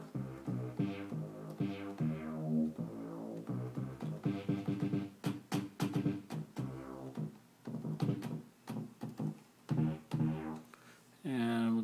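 Moog synthesizer presets played back from an E-mu Emax sampler disk, giving sustained buzzy harmonic tones and plucky stabs in a moderately loud, shifting melodic passage with no talking.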